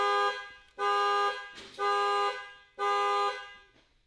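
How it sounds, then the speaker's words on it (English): A Corvette ZR1's car alarm blares in repeated loud horn blasts, about four pulses with short gaps, close and steady in rhythm. "Car alarm coming back on?"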